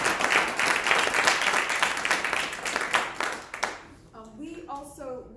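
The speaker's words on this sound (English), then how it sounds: "A round of applause for that response." A debate audience claps after a response, a dense burst of applause that fades out around the fourth second before a voice begins speaking.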